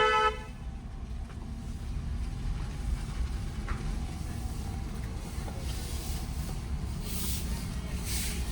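A car horn toots briefly before a right turn in a narrow lane, over the steady rumble of an engine and road noise from inside a moving vehicle.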